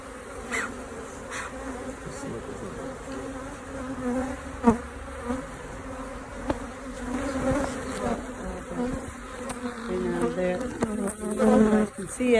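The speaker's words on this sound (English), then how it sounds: "these bees are really mean, and unfortunately a lot of them are stinging my rubber phone case" A swarm of angry bees buzzes close and continuously around a rubber phone case, a dense droning hum with intermittent soft taps and rustles, and a voice murmurs faintly underneath.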